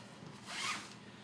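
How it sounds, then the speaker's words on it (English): A zip-top pie bag holding pie dough dusted with flour is zipped shut in a home kitchen: a single short, close plastic zipping rasp that rises and fades within about a second. "Zip it up"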